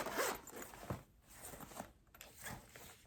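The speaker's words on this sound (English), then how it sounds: "this zipper down here." A bag's zipper slides open or shut in a few quick rasping pulls, close and fairly quiet, with brief pauses between strokes.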